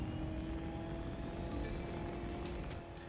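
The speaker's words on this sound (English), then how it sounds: "You can hear that engine spool" A truck's engine in The Crew 2 drones steadily at very high speed, its sustained whine and spool holding near and even throughout, with a faint tonal hum on top and a slight dip at the end.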